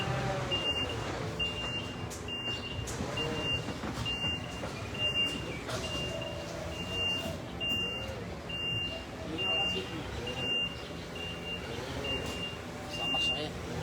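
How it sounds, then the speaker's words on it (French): A truck passes with its reversing alarm giving repeated evenly spaced beeps over a low engine rumble and traffic noise, while someone speaks. "on attend qu'il passe le camion."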